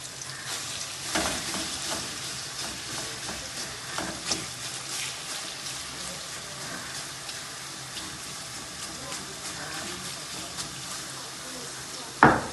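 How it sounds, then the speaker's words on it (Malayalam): Prawns frying in coconut oil for pickle, a continuous loud sizzle with intermittent stirring scrapes of a spoon in the pan, close, with a sharp clatter at the end and no clear talking. "ഇതൊന്ന് പൊരിയട്ട്. ഇത് പൊരിഞ്ഞിട്ട് കോരുന്ന നമുക്ക് കാണാം."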